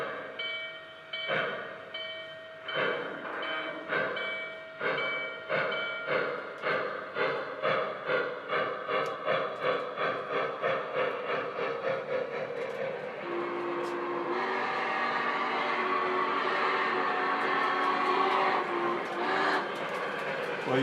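A model Norfolk & Western 611 steam locomotive chuffs in a steady rhythm that speeds up, then its horn sounds in a long, sustained blast, close and fairly quiet.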